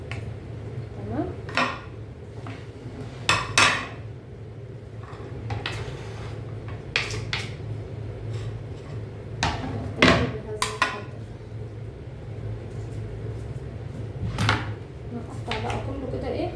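A knife chops small local peppers and tomatoes on a board for homemade sausage, making irregular sharp taps and knocks near the listener, with a voice talking over a steady low hum.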